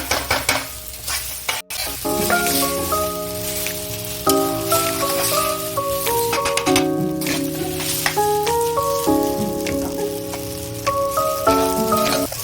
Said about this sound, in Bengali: এটাকে ভালোভাবে নাড়িয়ে নাড়িয়ে ভাজতে হবে।